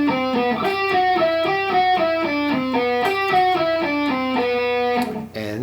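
Electric guitar picks a repeating nine-note exercise across string sets, each note clean and evenly spaced in a steady rhythm, playing continuously and loudly before a brief scrape at the end.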